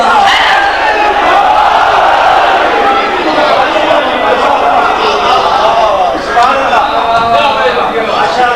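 A large gathering at a religious sermon commemorating the martyrdom of Imam Hassan chants slogans together, loud massed voices rising and falling in unison, with overlapping shouts and crowd chatter continuing throughout.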